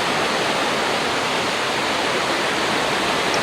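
Water rushing out of the Salandi dam gates at Hadagarh in Keonjhar during the rainy season, a loud, dense, unbroken roar filling the whole clip with no voices.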